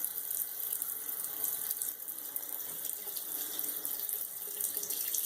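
Tap water runs steadily as a modified Gillette Ball Tech safety razor is rinsed under it, a continuous bright hiss with light splashing close by.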